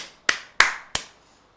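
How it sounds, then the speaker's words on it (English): Three sharp, close hand claps, evenly spaced about a third of a second apart, each ringing out briefly in an otherwise quiet room. "I'm still clapping."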